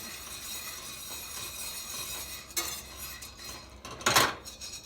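A utensil scrapes and clinks against a pan while coffee beans are stirred during roasting, with a soft steady rustle and two sharper metallic knocks near the end.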